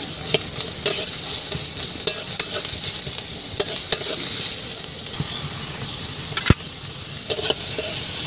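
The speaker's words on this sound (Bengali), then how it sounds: "কড়াইতে দিয়ে দিচ্ছি তেল।" Chopped onions fry in oil in a wok with a loud, steady sizzle, broken by sharp scrapes and clicks as they are stirred, and no voices.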